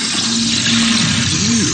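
A toilet flushes with a loud, steady rush of water that runs unbroken throughout, while a faint humming tone wavers through it.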